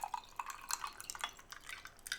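Water drips in a quiet indoor room, a series of small, bright, irregular droplet plinks close by with short gaps between them and no talk.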